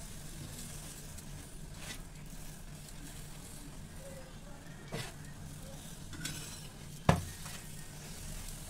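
A tikona paratha sizzles in ghee on a pan over a gas flame, a soft continuous frying hiss with faint scraping, a few light knocks and one sharp clack near the end.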